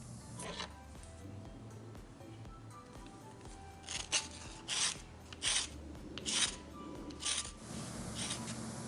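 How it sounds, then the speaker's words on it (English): Hand files rasp and scrape at segments of a handmade snake lure being shaped, a steady rough rubbing with louder bursts of strokes in the second half. "I'm going to shape them and refine them with a mixture of some files and a belt"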